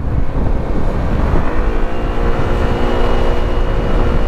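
An FKM Venture ADV 180cc scooter accelerates with a loud, sustained engine drone and rising pitch, close to the rider with wind buffeting the microphone.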